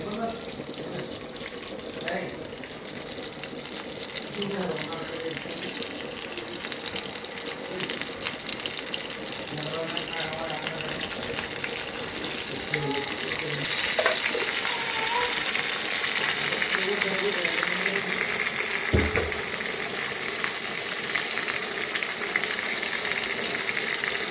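Pieces frying in hot oil give a steady, moderately loud hiss and crackle that builds slightly over time, with occasional clinks of a utensil and speech over it.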